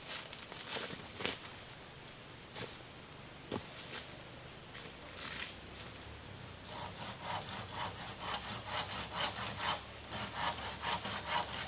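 A long piece of wood is sawn by hand outdoors near a forest, with irregular rasping strokes that speed into a quicker rhythm toward the end. Insects chirp faintly in the background.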